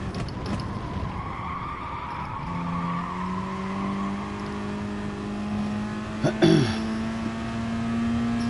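A racing car laps a circuit in Gran Turismo Sport, its engine droning and rising in pitch, with a sharp tire squeal in the middle over a steady background hum.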